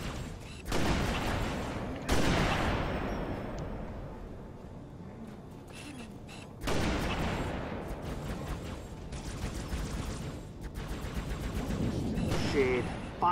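Gunfire in Halo Reach on the Covert Insertion mission, with several heavy sustained bursts of weapon fire and booming blasts in overlapping waves, loud and close, with voices talking between them.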